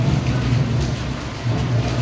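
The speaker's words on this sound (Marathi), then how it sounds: "एवढा पाऊस पडतो तरी पण" Steady rainfall hisses in a constant wash of noise during the monsoon at Karla village near the Ekvira temple, moderately loud and even throughout, with no talking.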